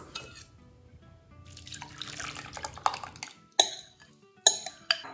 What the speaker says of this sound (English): I'm going to add this yogurt mixed with a little bit of water